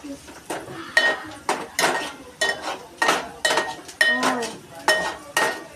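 A spoon stirring turmeric in a pan for poha, with repeated metallic scrapes and clinks against the pan in an uneven rhythm, close and fairly loud.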